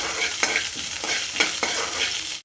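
Whole spices — cumin seeds, a cinnamon stick and cloves — sizzling in hot oil in a pan while being stirred, with a steady close fry broken by several scraping stirs, no voices.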